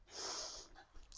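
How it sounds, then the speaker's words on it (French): A single soft inhalation during a yoga session, an airy hiss lasting about half a second, close and quiet, followed by faint breathy noise. "On inspire"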